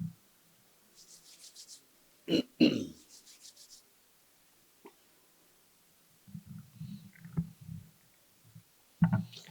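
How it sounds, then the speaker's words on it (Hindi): Palms rub together in a few short bursts of soft, dry friction, quiet and close, separated by pauses, with a couple of louder thumps and some low voice sounds in between. "दोनों हथेलियां आपस में रगड़ के नेत्रों पे रखिए"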